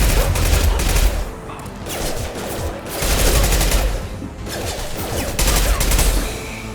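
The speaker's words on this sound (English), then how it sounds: "Firing an impact shot!" Heavy bursts of gunfire including an impact shot in Mass Effect 2 Legendary Edition, loud clustered volleys with brief lulls between them, in a combat fight with Eclipse mercs.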